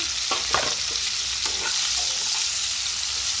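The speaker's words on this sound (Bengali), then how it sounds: "এবার এই উচ্ছে রেসিপিটা আগে উচ্ছেগুলো ভেজে নেব। তেল হয়ে গেছে," Pieces of bitter gourd fry in hot oil, a steady broadband sizzle with a few scraping stirs of a utensil near the start, heard alone at moderate level.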